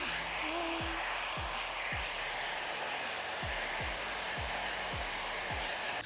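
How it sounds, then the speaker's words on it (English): A hair dryer fitted with a diffuser blows steadily on medium heat at its lowest speed, a constant close whoosh with soft periodic thumps as it moves through curly hair. "And then I'm going to continue diffusing. We're still on medium heat and the lowest speed."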